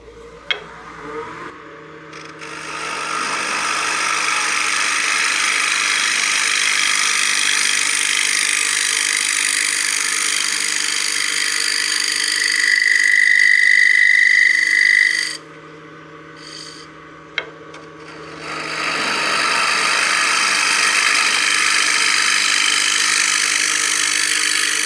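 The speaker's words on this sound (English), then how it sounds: "with this profile I have on my scraper, it's really easy to control and get a nice flowing continuous curve on the inside" A sharp woodturning scraper cuts a smooth curve inside a turned wooden utility box on a lathe, giving a steady loud rasping scrape that runs for long stretches, breaks off briefly with a short high whine, then resumes.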